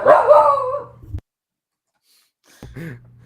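Puppies barking indoors at home, a burst of close yips and barks at the start, then silence, then another short bark as the dogs await someone arriving.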